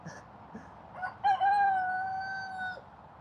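A rooster crows once, loud and near, a single drawn-out call over faint clucking from chickens in a spring yard.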